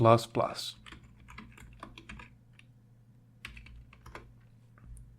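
Someone types on a computer keyboard in a Windows search box. Brief bursts of close, light key clicks are heard, with a person talking briefly at the start over a low steady hum.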